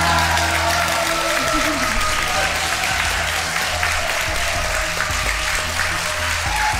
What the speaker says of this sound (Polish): Dostałeś bardzo duże brawa.